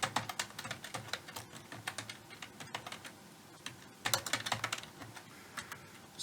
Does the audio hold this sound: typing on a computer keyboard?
yes